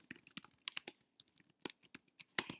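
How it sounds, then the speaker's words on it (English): Typing a message on a computer keyboard, with quick irregular key clicks in short bursts, close and fairly quiet, with no talking. "You type your message,"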